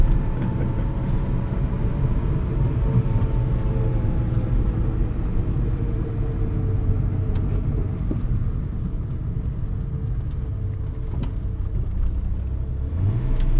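A 1971 Datsun 240Z with an inline-six engine driving, a steady low rumble of engine and road noise that holds even throughout with no voices.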